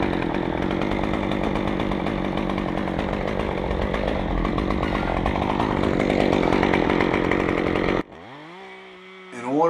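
A chainsaw cuts a notch into a tree trunk with a loud, steady, close snarl for about eight seconds, then stops abruptly and the engine winds down briefly before revving again.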